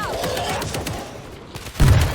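Crackling gunfire-like noise in the video game World War Z gives way to a sudden, heavy grenade explosion boom near the end, loud and close.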